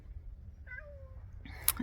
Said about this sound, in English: sorry, my cat's down here. If you hear meowing